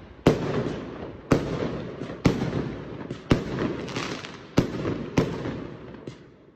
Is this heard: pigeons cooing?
no